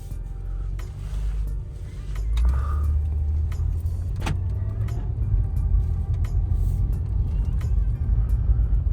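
High-mileage 2008 Acura TL pulling away on a test drive, a steady car engine hum with light interior rattles and jingling keys, a brief click and a sharp tap partway through, and no talking.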